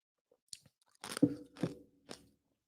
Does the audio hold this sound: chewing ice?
yes